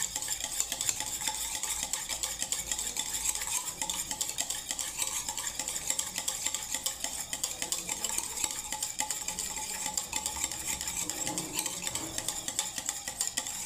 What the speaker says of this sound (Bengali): এই দইটাকে আমি এবারে ঘেটে নিচ্ছি শ্রীখণ্ড বানাবার জন্য বন্ধুরা